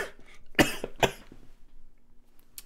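Two sharp, close coughs follow each other about half a second apart, trailed by faint throat noises and one brief softer burst near the end.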